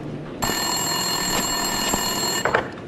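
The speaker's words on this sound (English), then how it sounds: "Winterson's phone was ringing." A desk telephone rings in the video game Max Payne 2, a bright, steady electronic bell tone with strong harmonics that starts abruptly and keeps sounding at close range, without any talk.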